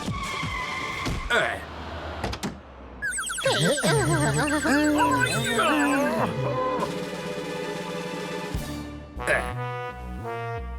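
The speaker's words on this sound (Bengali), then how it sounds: "গাড়ির আওয়াজ তো পেয়েছিলাম।" Tires squeal in a long, wavering screech as a car skids, with an engine roar and brief voices around it.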